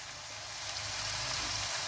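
Ginger and cumin paste sizzle with mixed vegetables in a pan, a steady, soft frying hiss that grows slightly louder, with no voices.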